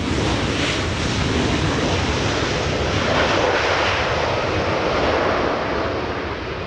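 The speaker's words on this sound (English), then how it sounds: "Spirit Airlines making an arrival on 24 right" A Spirit Airlines airliner arriving on runway 24 right at Los Angeles International Airport, a steady, loud broadband jet roar that holds evenly throughout with no voices.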